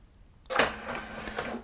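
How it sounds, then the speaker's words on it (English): A Brother MFC-L2710DW printer starts up abruptly and feeds pages through its automatic document feeder for scanning, giving a steady close mechanical whir and hum with small clicks, no voices. "the printer will take page by page and scan them"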